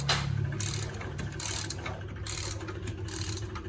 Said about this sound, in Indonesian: Lagi buka baut head